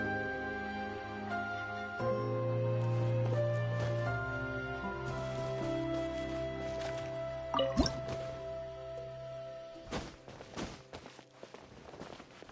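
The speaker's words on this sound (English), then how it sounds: "another water droplet just came out from the wall!" Water droplets drip from a wall in Genshin Impact, a few soft wet plops and squishy drips over a layer of game music and sound effects, with sharper clicks near the end.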